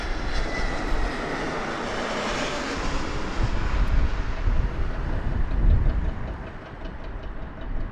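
An airplane landing at Las Vegas Harry Reid International Airport, a continuous broad engine roar that swells slightly mid-way and then eases, heard alone at moderate distance.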